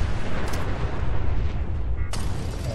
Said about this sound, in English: So many things are exploding. Holy crap! So many explosions.